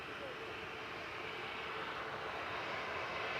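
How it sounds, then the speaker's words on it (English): A Ryanair airliner departing to Faro from Manchester Airport, a steady, loud broadband engine roar holding throughout with a faint voice underneath. "Ryanair departing now to Faro"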